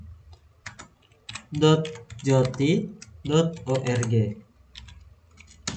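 Keys tapped on a computer keyboard to enter a web address in Firefox, with scattered light clicks before and after someone talking over them.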